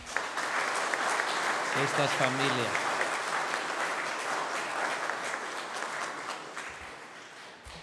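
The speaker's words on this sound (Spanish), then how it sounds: "Un aplauso para" Congregation applauding during an Easter Sunday Mass in church, a steady, dense wash of clapping sustained throughout, with a voice briefly speaking over it.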